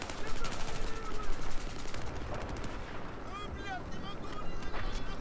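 Battlefield 4 gunfire rattles in dense automatic bursts, loud and close, mixed with distant shots and battlefield chatter, while voices speak underneath.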